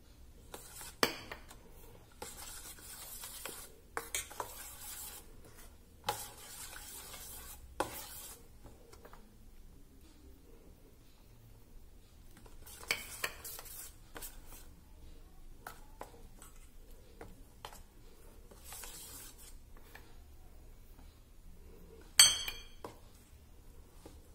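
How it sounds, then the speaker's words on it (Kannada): Roasted ragi flour stirred into melted jaggery in a pan for ragi laddu, quiet scraping and stirring with scattered clinks of a spoon against the vessel. "ಈಗ ಇದಕ್ಕೆ ಈ ಹುರಿಟ್ಟು ಹಾಕಿಬಿಟ್ಟು ಸ್ವಲ್ಪ ಸ್ವಲ್ಪ ಹಾಕೊಂಡು ಮಿಕ್ಸ್ ಮಾಡ್ಕೊಳ್ಳೋಣ"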